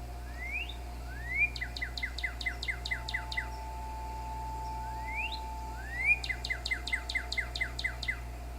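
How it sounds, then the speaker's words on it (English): Northern cardinal calls heard in the Nancy Drew game Ghost Dogs of Moon Lake: two phrases, each a rising whistled slur followed by a rapid series of bright, repeated chirps, clear over a steady low hum. "Northern cardinal."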